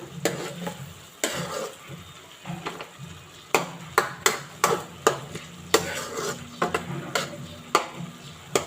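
Ground pork giniling being stirred and fried in a pan for a Bicolano dish, with a steady background sizzle and repeated sharp scrapes and clinks of a utensil against the pan, growing more frequent and rhythmic.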